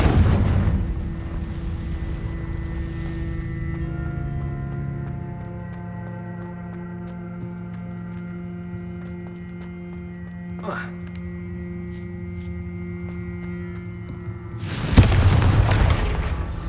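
Confringo fire spell explosions in Hogwarts Legacy, one deep boom at the opening fading into a droning tonal tail, then a second loud burst near the end.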